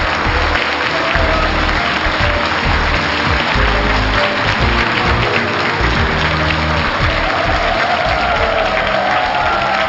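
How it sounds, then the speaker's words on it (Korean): A studio audience at a televised town forum breaks into sustained, dense applause for an arriving guest, with a few cheers mixed into the steady crowd clapping. "여러분 박수로 만나보겠습니다"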